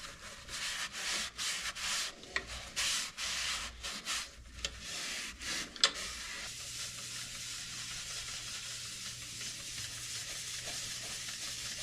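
A cloth wipes Rubio Monocoat finish off a turned alder wood bowl, making repeated soft rubbing strokes in uneven bursts for several seconds before settling into a quiet, steady hiss.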